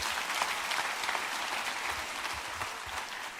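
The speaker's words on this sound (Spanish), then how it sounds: "démosle otro fuerte aplauso al Señor" A church congregation gives a strong round of applause, dense and continuous clapping with faint crowd murmur, steady and moderately distant throughout.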